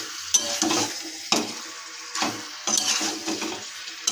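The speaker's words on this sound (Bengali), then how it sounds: "সামান্য পরিমাণ কাঁচা লঙ্কা কুচি তবে নাড়িয়ে নেব।" Chicken with cauliflower and chopped green chili is stirred in a pan, giving close scraping strokes in irregular bursts over a soft sizzle of frying, with no talking.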